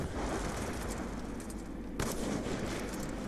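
A DSR sniper rifle fires in Call of Duty Black Ops 2 zombie mode, with one sharp shot cracking out over dense, noisy game sound.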